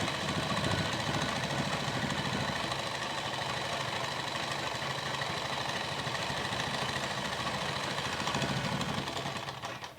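A sewing machine runs nonstop while stitching dress fabric made from a cheap suit piece, a steady, close mechanical whirr with a fast rhythmic chatter that eases off at the very end.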